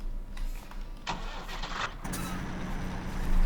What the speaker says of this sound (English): here is the Fiat tractor